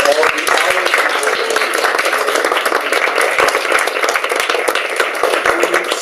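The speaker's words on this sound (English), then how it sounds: "the board of so-called, I think, deserves a great applause" An audience at an academic conference claps for the board, a steady patter of hands over six seconds with murmuring and some talk mixed in underneath.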